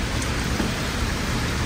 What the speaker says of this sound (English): It's been raining since morning and it's 12.